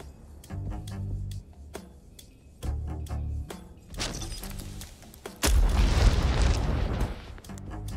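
Deep, booming explosions from the video game King Arthur: Knight's Tale, with several heavy blasts and a long, loud rumbling eruption midway, set against scattered clanks and game effects.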